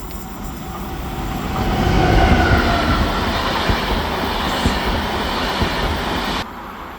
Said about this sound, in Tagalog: Ayan na yung train.